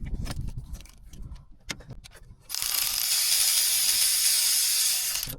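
A ratchet works a 13 mm alternator bolt on a VW Beetle, giving a few close, sharp clicks and metallic knocks before a loud continuous hiss of air takes over and runs to the end.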